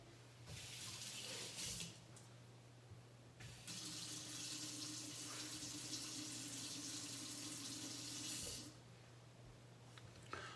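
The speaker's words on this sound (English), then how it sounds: "Let me wash my hands real quick." Hands being washed under a running kitchen tap: a steady, close hiss of water flowing into a sink, broken by a short pause partway through, with no talking.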